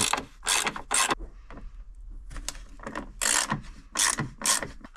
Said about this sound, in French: on se munit de notre clé de 8. Position desserrage. Et on vient desserrer.